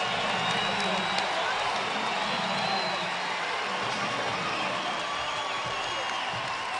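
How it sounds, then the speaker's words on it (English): A basketball arena crowd roars during a timeout at a Green Bay versus UW Milwaukee men's college game, a dense, sustained wash of cheering and noise that stays loud and even throughout. "Listen to this crowd."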